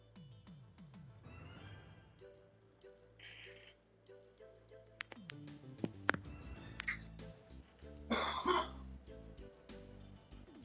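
A person coughs and clears their throat during a game stream, a few short rough bursts in the second half under background game music.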